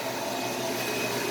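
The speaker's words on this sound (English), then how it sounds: "I'll go around and vacuum things up a little bit before I put them away" A shop vacuum sucking up sawdust in a woodworking shop, a steady, even roar of motor and airflow running continuously nearby, with no voices.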